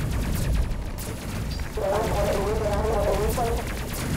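Dense, rapid gunfire and bursts of explosions from the video game Space Crew, a continuous busy barrage with a warbling electronic tone rising partway through.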